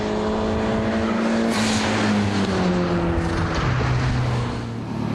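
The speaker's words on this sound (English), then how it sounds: "Les's Corolla jumps ahead of the better starting 1600, then drops away big time." Les's turbocharged Corolla drag racing a 1600 car off the line, a loud sustained engine roar with rising and falling gear tones, near and continuous with no voices.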